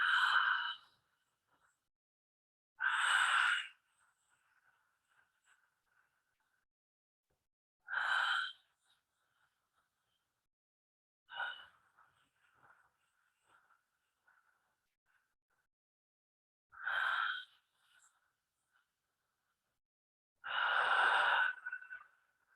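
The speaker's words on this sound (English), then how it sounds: "It's like a Darth Vader breath." Slow, deep Darth Vader-style breaths from an earth sounds breathing exercise: six long, rough, hissing exhalations, each about a second or two long, spaced several seconds apart, close and alone with quiet between them.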